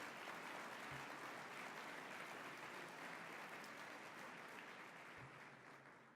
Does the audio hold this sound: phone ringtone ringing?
no